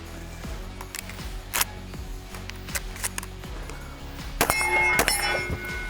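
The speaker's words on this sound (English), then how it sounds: "Let's just single load a slug." A slug is single-loaded into a Mossberg 12-gauge shotgun, giving a series of sharp, close metallic clacks and clinks spread over several seconds, with a denser rattle of metal near the end.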